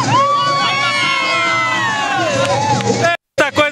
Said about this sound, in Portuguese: dá um grito de alegria aí, fala pra gente, olha lá!